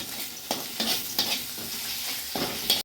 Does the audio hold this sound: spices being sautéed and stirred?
yes